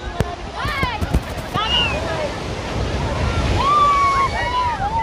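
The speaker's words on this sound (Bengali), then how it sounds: "এখানে কিন্তু ঢেউ ঢেউ অনেক বেশি দেখছি" Ocean waves wash in steadily at Udaipur beach near Digha, a broad roar mixed with wind buffeting the microphone, while people talk over the surf.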